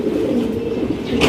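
Pigeon cooing, a steady low throaty murmur that runs through the whole short stretch, close and fairly loud, with a faint brighter rustle near the end.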